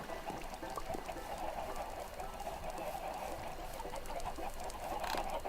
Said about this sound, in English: There's the chicken pit.